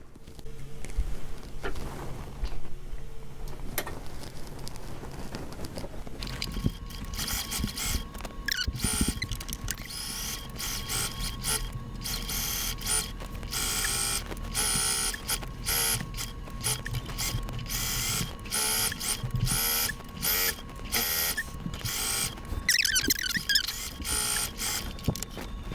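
A sewing machine stitches a narrow 3/8-inch hem on a pair of doll pants, a steady, close mechanical whirring and rapid needle clatter running continuously with brief pauses and speed changes.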